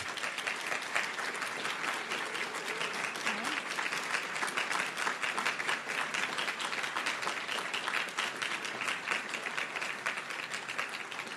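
At the close of a talk on Catholic sexuality, an audience applauds long and steadily, a dense even wash of clapping with faint voices underneath.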